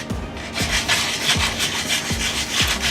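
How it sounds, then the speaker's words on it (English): Sandpaper is rubbed in circles over a homemade cat mask, giving rhythmic scratchy strokes about every three-quarters of a second, loud and close with no talk. "I do in circles, and I just kind of sand down"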